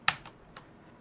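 A single sharp key press on a computer keyboard, the Ctrl and accent shortcut in Excel, followed by two fainter clicks, close and isolated.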